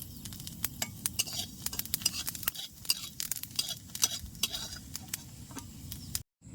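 Light crackling and sputtering of cumin seeds frying in hot oil, with scattered sharp ticks and a soft sizzle, close by and fairly quiet.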